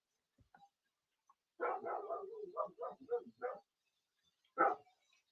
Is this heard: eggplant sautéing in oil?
no